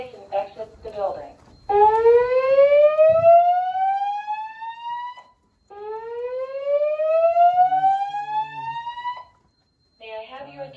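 Dormitory fire alarm test siren: two long rising electronic whoops, each sweeping upward for about four seconds with a short gap between. The siren is loud and close, with talk at the start and under the second whoop, and talk again at the end.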